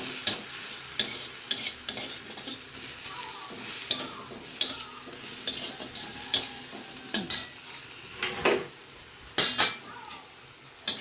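Bitter gourd shoots fry in fish oil with turmeric, a soft, constant sizzle broken by repeated louder scrapes and clinks as a spatula stirs the pan.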